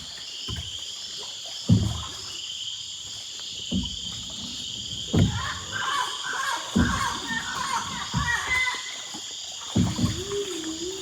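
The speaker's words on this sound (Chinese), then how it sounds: "青蛙的鸣叫声，以及各种在雨林中栖息的动物发出的声音。" Frogs and other wildlife of the Amazon rainforest at Tambopata call in a steady background chorus, while nearby paddle strokes splash rhythmically from a small boat on a lake.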